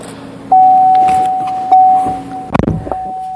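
The power windows of a 2015 Chevrolet Cruze LT whine as a motor runs, stops briefly, then runs again, close up, followed by a few sharp clunks and rattles.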